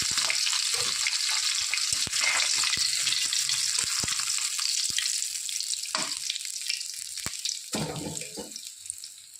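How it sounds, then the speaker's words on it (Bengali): Khoira fish frying in hot oil, a steady bright sizzle filling the clip with a few sharp pops and clicks, fading slightly toward the end, with no voices. "ওই তেলেই বাদ বাকি মাছগুলো ভেজে দেবো"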